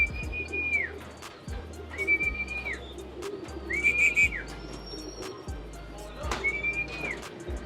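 Racing pigeons arriving during a race lap set a repeating rising-then-falling whistle every couple of seconds, with soft cooing and wing flutters nearby and no clear talk.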